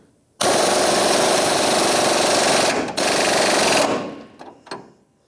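Pneumatic impact wrench tightening a rear leaf spring shackle bolt on a 1992-1996 Ford F-150, a loud, steady rattling burst lasting about three and a half seconds with a brief gap, then tapering into a few short hits.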